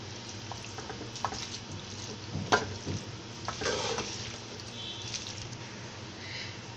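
Chicken chow mein being stirred and tossed in a pan, with a steady soft scraping and faint sizzling hiss running throughout and a few sharper clinks of the utensil against the pan.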